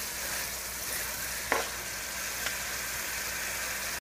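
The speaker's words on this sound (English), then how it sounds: "you're going to want to stir a little more regularly to prevent the mixture from sticking to the bottom of the pot" Trinidadian-style curry goat mixture sizzles steadily in a pot as it is stirred, with a soft continuous frying hiss and a couple of light spoon scrapes.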